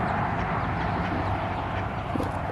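Ducks quack on a farm, with chickens nearby, a dense steady chorus of close calls running continuously without pause.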